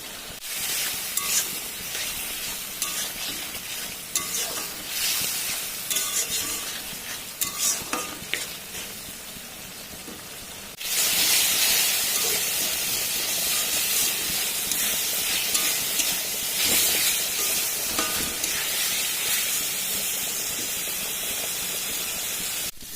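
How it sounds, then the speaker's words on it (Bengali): Rohu fish curry broth with fried potatoes, turmeric and salt cooks in a pan, making a dense, continuous hiss and bubbling sizzle that jumps louder partway through and then stays steady and close, with no voices. "আমার ঝোলটা ফুটে গেছে"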